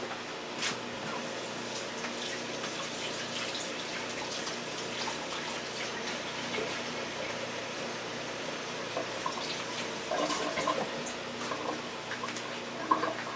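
Water runs steadily from a tap while a mixing bowl is washed out during tiramisu preparation, a continuous splashing wash that holds at an even level throughout with small clinks near the end.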